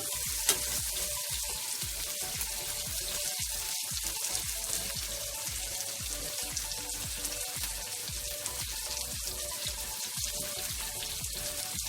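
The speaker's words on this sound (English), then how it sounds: "I'm just sauteing them a little bit because I don't want them to too soggy either." Ingredients for ackee and saltfish saute in a hot pan with a continuous close sizzle, punctuated by soft stirring scrapes and clinks.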